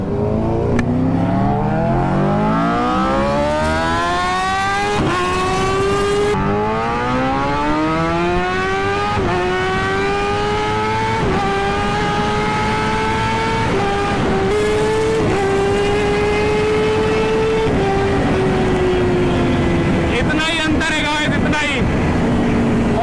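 A superbike engine screams close by as it accelerates away in first gear, its rising whine climbing again and again through repeated throttle sweeps and staying loud and continuous throughout.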